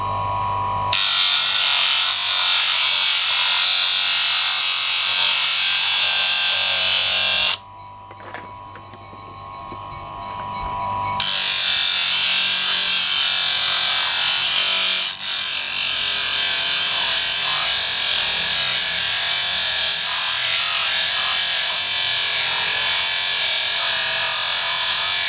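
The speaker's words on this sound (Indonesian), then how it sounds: "Kita terus amplas lagi." Wood sanded by hand while shaping a homemade arrow point, a steady loud rasping scrape that runs almost continuously, broken by a short quieter pause before the rubbing resumes.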